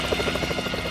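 A rescue helicopter hovering during a cliffside rescue, its rotor chopping in a rapid, steady pulse over a loud, continuous engine drone, close and dominant for under a second.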